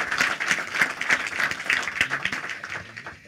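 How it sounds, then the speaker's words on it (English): An audience at a Startup Canada financial literacy event applauds the entrepreneurs, a dense, steady round of clapping from a crowd that tapers off toward the end. "let's have one more final round of applause for all four of our entrepreneurs"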